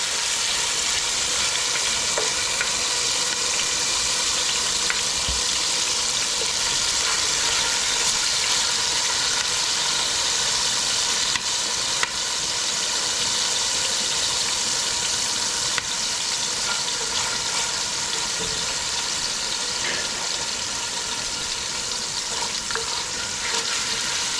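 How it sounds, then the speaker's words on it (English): Green seasoning sizzles and fries steadily in hot oil inside a big Dutch oven for a chicken and cabbage curry, a dense, constant crackle heard close with occasional stirring clicks and no talk. "And the oil is ready to go. Yeah. Start it off with our green seasoning."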